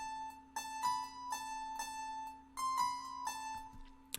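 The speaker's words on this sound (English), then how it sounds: "So without the effects, the harpist chord sounds like this." A dry harpsichord with no effects plays a short, bouncy melody of plucked notes in a repeating pattern, fairly quiet and alone, each note ringing bright and thin.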